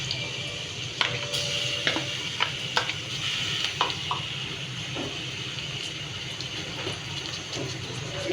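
Chopped onions frying in oil in a pan for a mutton brain masala, a continuous low sizzle with occasional utensil clicks and taps, close and moderately loud, and no one speaking.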